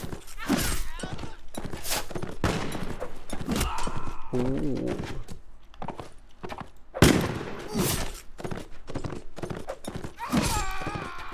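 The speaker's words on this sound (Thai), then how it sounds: "มันยิงปืนแล้วเนะี่ย ระวังนะปืนนี่แรงมากนะ" Sharp, loud gunshot-like bangs burst out every second or two in the video game Mount & Blade Gekokujo, mixed with thuds and a voice talking throughout.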